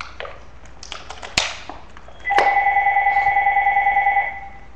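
A telephone rings in a room, its electronic two-tone ring starting partway through and repeating in a fast steady warble for about two seconds, loud and close, after some quieter rustling and tapping.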